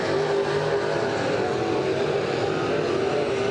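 Race cars circling the track at Maquoketa Speedway in a Saturday heat, a loud, continuous engine drone with a steady pitch, sustained throughout and without talk.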